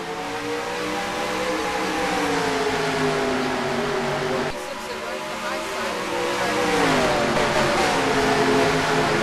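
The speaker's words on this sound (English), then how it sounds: "Holding up a lot of race cars." A pack of stock cars in a racing video game at Dover accelerates together, overlapping engine notes climbing in pitch as they rev through the gears, loud and sustained.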